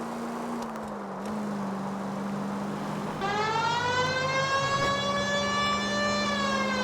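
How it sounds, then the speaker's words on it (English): A low steady tone gives way to a loud wailing police car siren in the video game L.A. Noire, with rising and falling pitch, continuous and electronic-sounding, with no voices over it. "Gotta cut the siren on to get people to move out of the damn way."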